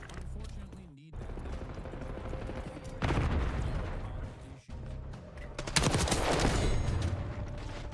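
Gunfire in Black Ops 6 crackles in sustained bursts with sharp louder volleys near the middle and end, while a voice speaks over the shooting.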